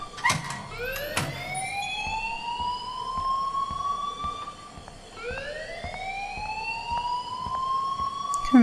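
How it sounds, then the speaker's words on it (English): A siren-like alarm sweeps upward in long, repeated rising tones inside the video game Life is Strange, with a couple of sharp clicks near the start, steady and fairly loud with no talk. "please turn off that alarm since that's your job"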